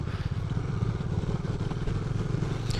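A motorcycle rides along the highway from Dimapur to Kohima in Nagaland, its engine droning steadily and rumbling low with wind and road noise throughout, close and continuous.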